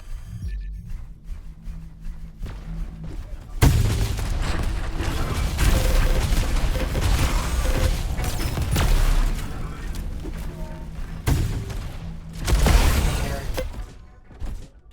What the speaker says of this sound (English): Maybe it's just an explosion.